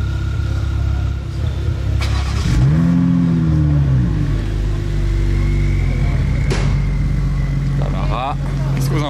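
A Morgan Super Sport with a hardtop fires up and revs, its engine note rising and falling in a couple of swells over a steady idle, while someone talks nearby in a busy setting.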